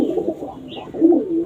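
A pigeon with an open, fanned tail coos close by in low throaty rolls, the calls swelling louder in the second half, with no talk.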